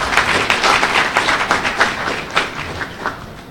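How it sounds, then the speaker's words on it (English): Conference audience at a general insurance event giving a round of applause, dense close clapping that stays full and steady before thinning slightly toward the end. "let's say thank you to Gustav by giving him a round of applause"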